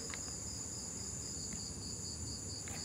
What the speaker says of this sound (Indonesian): Ada suara jangkrik katanya.